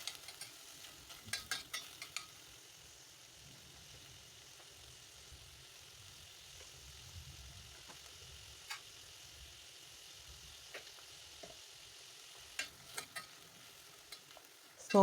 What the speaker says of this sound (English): let me just saute my vegetables